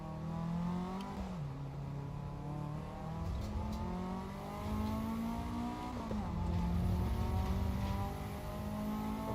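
Race car engine in the racing game Assetto Corsa EVO, a steady revving drone with gear shifts and rising and falling pitch, fairly close and continuous with no talk.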